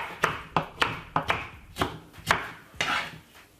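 Knife chopping red pepper and spring onion on a cutting board, roughly eight crisp, fairly close chops at an uneven rhythm, with no talk.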